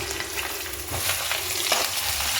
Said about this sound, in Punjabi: ਇਹਨਾਂ ਨੂੰ ਚੰਗੀ ਤਰ੍ਹਾਂ ਅਸੀਂ ਭੁੰਨਾਂਗੇ